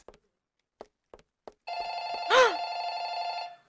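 An old-style telephone bell rings loudly in a Roblox horror game, starting after a few faint taps and holding a steady, sustained ring that swells briefly near the end.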